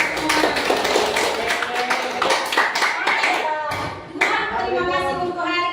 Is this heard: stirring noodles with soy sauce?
no